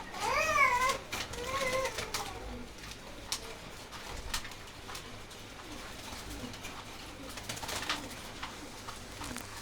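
A restless pigeon in a loft gives low, repeated cooing calls nearby, with a louder opening call, scattered wing and cage noises, and a quiet murmur of voices in the background.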